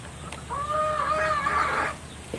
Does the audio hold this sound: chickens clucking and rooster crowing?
yes